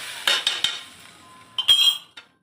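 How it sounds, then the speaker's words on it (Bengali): Ghee stirred into hot salted water in a pot for a semolina sweet, heard as a few sharp metallic clinks and scrapes of a utensil against the pot, close and brief with quiet gaps between. "ঘি দিয়ে নেড়ে নেবো একটু।"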